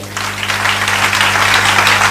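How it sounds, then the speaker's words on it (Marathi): A crowd applauds the organisers of a two-day gathering, clapping loudly and densely without a break from start to end, with no voices on top. "यासाठी म्हणून एकदा जोरदार टाळ्या वाजवूयात"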